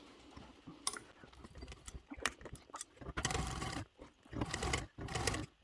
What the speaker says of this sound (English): I am going to reverse stitch on this section.